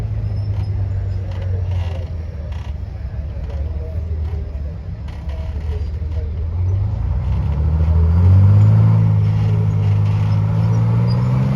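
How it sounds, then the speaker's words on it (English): Valentine DD amphibious tank driving at a military vehicle show, a steady low engine drone that swells louder and rises in pitch toward the end, with people talking faintly nearby. "believe this is the only DD Valentine in existence now. Certainly the only driving one anyway."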